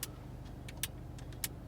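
Air vents in a Mercedes C-Class being adjusted, giving a few crisp, faint clicks spaced irregularly over a low steady cabin hum, with no voices.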